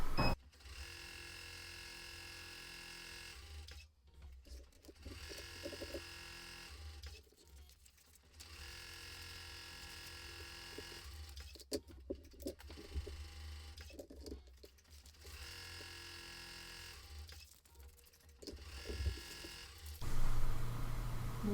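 Embroidery machine stitching an applique tack-down for faux chenille letters, a steady fast mechanical whirring and clatter in several long runs broken by short pauses, close and even, with no talking.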